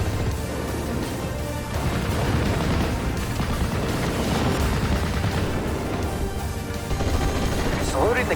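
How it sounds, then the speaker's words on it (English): Covering gunfire in a WWII Normandy video game: a dense, continuous barrage of shots and explosions, loud and close, with game voices mixed underneath. "Need some covering fire?"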